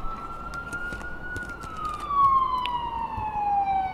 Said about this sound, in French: Vous entendez l'ambulance là.